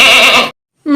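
A goat bleats up close from a herd on a Banda farm, one loud wavering cry in the first half, then a brief silence and the start of a second bleat.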